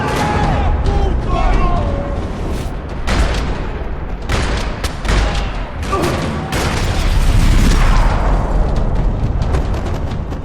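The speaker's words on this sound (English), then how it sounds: "Another parking lot rattling with gunfire." Gunfire rattling across a parking lot during a firefight in the video game Max Payne 3: dense, loud bursts and sharp shots stack up over rumbling booms for the whole stretch, with game voices mixed in.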